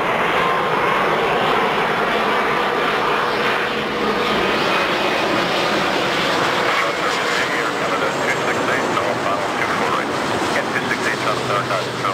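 An Airbus A330 jet lands at Toronto Pearson airport, its engines a loud, continuous broadband roar that holds steady throughout, heard from nearby without pause.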